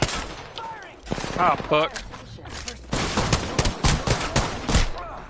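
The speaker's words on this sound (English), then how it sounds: "Both of them shooting at me." Enemy gunfire in Apex Legends Season 6 rattles in rapid bursts and volleys, loud and close, while a player exclaims over the shooting.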